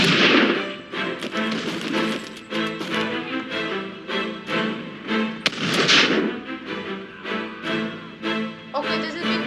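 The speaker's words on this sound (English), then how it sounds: "who is firing volleys?" Musket volleys crack and boom in Totally Accurate Battle Simulator during an Opium War battle, a dense, irregular barrage of loud shots with several heavier bursts standing out over a continuous rumble.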